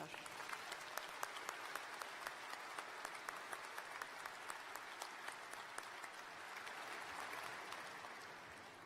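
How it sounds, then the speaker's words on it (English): Steady, dense applause from a large audience at a university undergraduate graduation ceremony, sustained at an even level for several seconds with a slight swell near the end, heard from some distance. "Another round of applause for Dr. Suresh."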